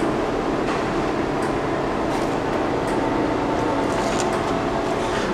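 A Blanchard 18-36 vertical spindle rotary surface grinder runs steadily, a constant low mechanical rumble and whir with a broad hum, fairly quiet and unchanging throughout, with no talking.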